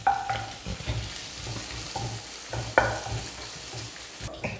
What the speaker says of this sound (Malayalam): ഇഞ്ചിയുടെയും വെളുത്തുള്ളിയുടെയും പച്ചമണം മാറുന്നവരെ നന്നായിട്ട് ഇളക്കി കൊടുക്കാം.